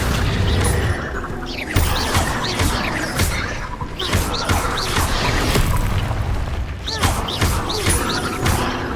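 Repeated blasts of the Confringo fire spell in the Hogwarts Legacy video game, loud booming impacts with crashing debris recurring every couple of seconds amid dense combat noise.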